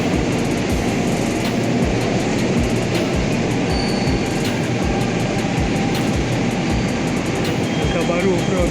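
A new China-made commuter train moves through Tanah Abang station with a loud, continuous rumble. Regular wheel clacks repeat over joints throughout, and a faint voice speaks under the noise.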